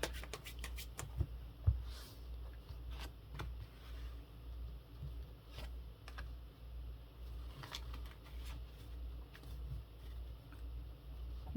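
Tarot cards shuffled by hand, a series of quick riffling flicks and soft card taps in uneven bursts, close and quiet over a steady low background hum.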